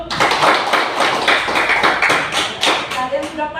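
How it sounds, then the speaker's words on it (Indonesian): Classroom of schoolchildren clapping their hands together, a quick run of overlapping claps filling the room, close and fairly loud, with some voices mixed in. "tepuk tangan dulu"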